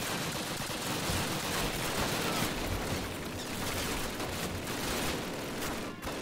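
Dense, continuous gunfire and explosions fill a World War II battle in the original Call of Duty, loud and unbroken, with machine gun bursts blending into a roaring wall of combat noise.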